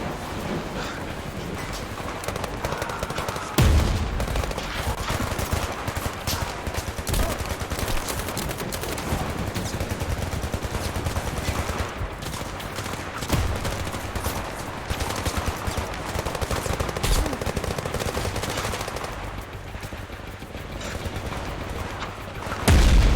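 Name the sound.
gunfire in the VR shooter video game Zero Caliber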